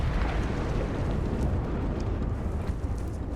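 A video game explosion, a sustained deep rumbling roar that fills the whole clip and slowly fades, with no voices over it.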